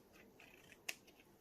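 Scissors snip once through a small piece of card during an acrylic pouring craft session, a single sharp, close cut in a quiet room with no talking.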